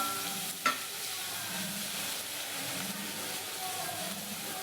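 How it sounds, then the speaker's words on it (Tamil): Onions with curry leaves and salt sauté in a pan, making a quiet, even sizzle throughout, with one brief knock early on. "இதை கொஞ்சம் நல்லா வணக்குங்க. பாருங்கள், நல்லா வெங்காயம் வணங்கிடுச்சு."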